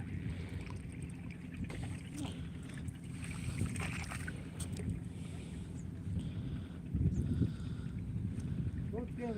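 A small boat is pushed through river water against gusting wind on the Madhumati River, with low sloshing and wind buffeting the microphone; faint voices are heard at times.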